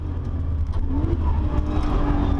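Nissan GT-R Nismo race car accelerating hard on the Nordschleife, a steady loud engine drone with a rising gear pitch and continuous road and wind roar, heard from inside the car with no talk.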